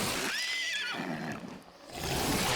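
A horse whinnies in a Gwent card game animation, a clear rising and falling neigh at moderate distance set against a dense background of game music and effects.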